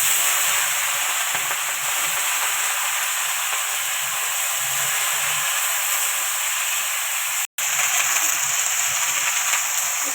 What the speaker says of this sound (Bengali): এবার সবজিটা ঢেলে দিচ্ছি আমি